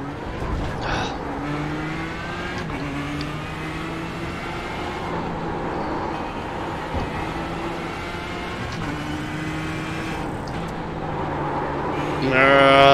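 Ford GTE race car in the iRacing simulator, engine droning near and steady through a lap with repeated upshifts and downshifts that step the pitch, loudest as it revs hard at the end.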